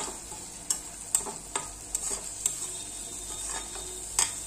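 A spoon stirs pickle masala into prawn pickle with uneven scraping clinks and knocks against the container, set over a soft frying hiss.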